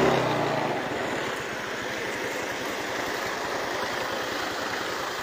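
An enforcement vehicle's engine idles while it stands in deep flood water. The low, throbbing rumble is close and steady, with a faint wash of water noise and no voices.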